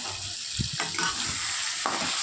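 Spices and vegetables sauté together in a pan for a vegetarian pea dal, giving a steady close sizzle with a few soft stirring scrapes.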